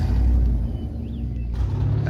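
A heavy truck engine in a video game, a DCMT 96 hauler, rumbles at low pitch, steady and fairly loud, with a faint mechanical whine and no talking.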